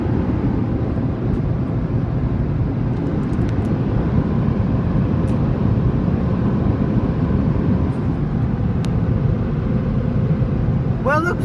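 Car wash dryers on an Istobal MNEX 22 blow onto a car, giving a loud, steady roaring rush of air that holds for the whole stretch with no talk.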